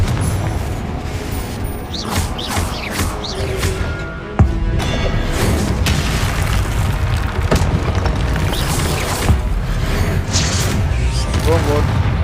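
Confringo fire spell blasts in Hogwarts Legacy: loud booming explosions and crashing impacts in steady succession amid dense combat noise, with a player talking over the battle.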